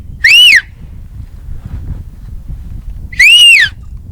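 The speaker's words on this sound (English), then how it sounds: "whistle him" A person whistles loudly twice on a mountain hunt to catch a distant animal's attention, each a short rising-and-falling whistle separated by a few seconds of soft outdoor rumble.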